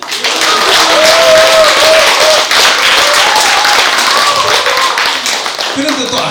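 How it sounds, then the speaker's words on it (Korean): Audience applause at a Buddhist book-launch dharma ceremony, a steady wash of clapping for several seconds with a voice speaking over it, fading slightly near the end. "박수 한 번."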